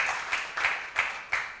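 A church congregation gives a short burst of applause, several rhythmic clap waves blending into a soft, roomy patter at moderate volume.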